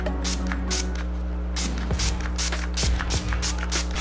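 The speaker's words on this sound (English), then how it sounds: "Now I'm gonna lock this all in with a Gerard Cosmetics Slay All Day Setting Spray in the scent Dreamsicle" Gerard Cosmetics Slay All Day setting spray misted onto a face in a series of short, close, hissing bursts, several spritzes in quick succession over a low steady room hum.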